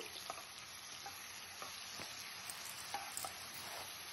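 Ingredients for a mutton boti curry frying in a pan, with a faint steady sizzle and scattered soft stirring taps, quiet and close with no talk.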